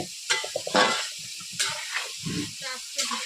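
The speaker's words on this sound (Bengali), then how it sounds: "আর যে কপি রান্না করছি কপি হয়েই গেল প্রায়" Cauliflower curry cooks in a pan, with bursts of sizzling and stirring scrapes and hiss rising and falling under someone speaking.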